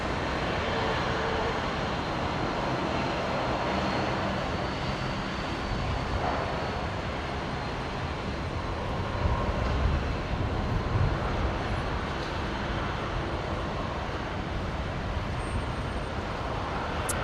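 Distant Virgin Boeing 737 taxiing at Brisbane International Airport, a steady broadband jet engine rumble and whine that stays constant and unbroken, with no voices.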